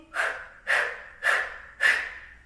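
Rhythmic breathing exercise during a workout flow, four strong, evenly spaced breaths, each a forceful, close, airy huff about half a second apart, with no speech.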